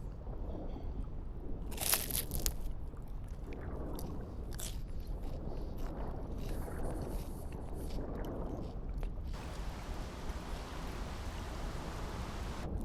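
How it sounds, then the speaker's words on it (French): A waterfall in the survival game The Isle pours as a steady broadband rush, with a few brief crunchy bursts early on and the roar carrying throughout. "Mais c'est une cascade qui tombe, ça."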